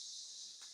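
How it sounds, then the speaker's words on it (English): Cicadas in the rainforest outside a house in Speewah, Queensland, a steady high, even shrill drone held throughout this very brief moment, faint and distant. "And can you hear those cicadas outside?"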